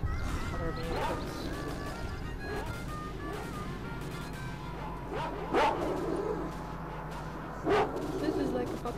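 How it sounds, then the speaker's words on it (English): Dogs in a video game bark at passing vehicles, a few sharp barks rising above a constant murky ambient bed of game noise, spaced several seconds apart and moderately distant. "Sometimes the dogs do indeed harass other vehicles."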